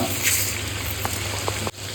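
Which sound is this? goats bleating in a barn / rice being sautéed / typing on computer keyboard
rice being sautéed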